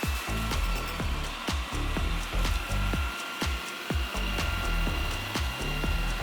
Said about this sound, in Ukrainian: пилосос не просто розкидає сміття у різні боки, а справді починає його збирати